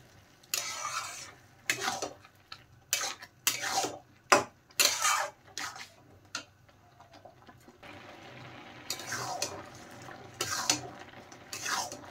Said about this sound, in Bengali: ভালোভাবে নেড়ে চেড়ে এখন গাজরের সাথে আমি মিশিয়ে দেব